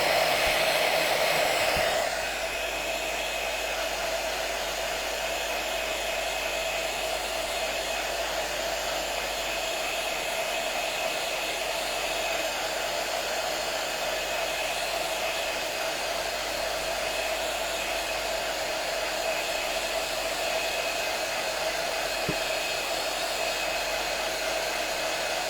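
A hair dryer blows steadily on a vintage item, a constant close whir with a steady whine that holds at even volume for the whole stretch.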